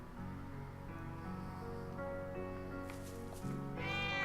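A cat meows in the video game Trails of Cold Steel 2, a drawn-out meow heard near the end over steady game music with sustained tones, with no talk.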